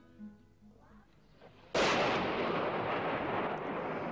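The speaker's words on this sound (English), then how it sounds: "this shell exploded in a street not far from the hall" An artillery shell bursts in a street during fighting in Bosnia, one sudden loud blast after a quiet stretch with faint background murmur, leaving a long rumbling, crackling decay.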